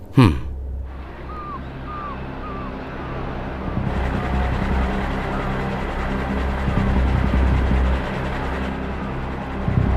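A cartoon Sonic Jet flies with a steady, loud whooshing engine roar and low droning hum, with a few brief chirps early on and the roar brightening partway through.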